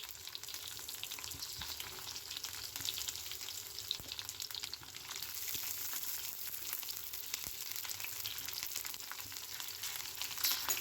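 Green chillies, ginger and onion fry in hot oil for Dambar-style egg masala, a steady close sizzle with crackles and occasional scrapes of stirring.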